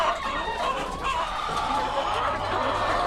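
Chickens cluck steadily on a farm, with a rooster crowing among them; the flock is close and fairly loud, a continuous busy chorus with no talk over it.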